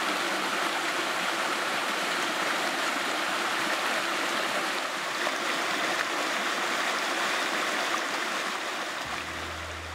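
A mountain stream rushes through a valley in a steady, broadband wash of flowing water that stays loud and even throughout, with no one speaking.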